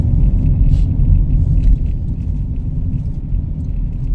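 Car rolling slowly along a road near Rowland Lake, heard from inside as a steady low engine and road rumble with no talking.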